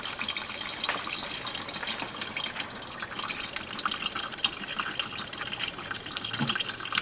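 Transmission fluid drains steadily from the pan of a 1994 Mercedes E320 with an automatic transmission, a faint continuous trickle and patter with no talking.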